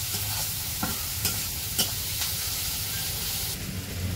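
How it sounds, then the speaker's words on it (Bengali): Onion, garlic and green chili stir-fry in a pan for village-style kochur shak, a steady close sizzle with a few scraping stirs of the spoon breaking through at intervals. "পেঁয়াজ রসুন কাঁচামরিচ সব দিয়ে ভাজা ভাজা করে নিতেছে"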